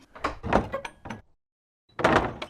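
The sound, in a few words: door of an old farmhouse being opened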